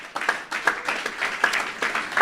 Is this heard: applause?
yes